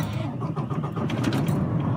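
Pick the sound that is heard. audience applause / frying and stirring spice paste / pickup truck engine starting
pickup truck engine starting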